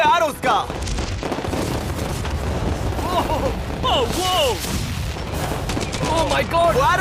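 A barrage of 1000 flaming arrows launched in a yard-destruction video game, a loud, continuous wash of booming impacts and whooshing volleys, with whistling streaks rising and falling throughout.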